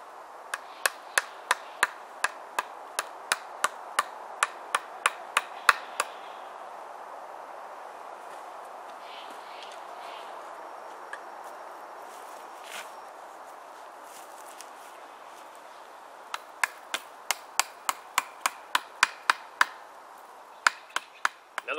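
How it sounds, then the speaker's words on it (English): Tent stakes for a military poncho shelter are hammered into the ground in two bursts of sharp, evenly paced strikes, about a dozen each, loud and close, with a quiet gap between. "I'm going to pull it tight and stake it down."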